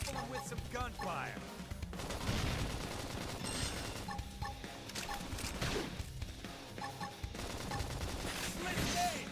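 Gunfire in the Xenoblade Chronicles X video game, with bursts of shots and impacts layered over game music and combat effects, continuing steadily through the battle.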